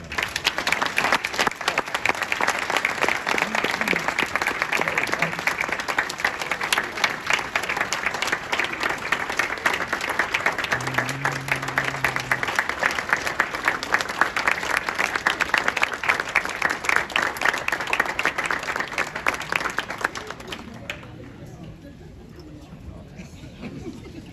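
An audience gives sustained applause after a speech, a loud, even wash of many hands clapping that holds steady for about twenty seconds before cutting off abruptly into a quiet room.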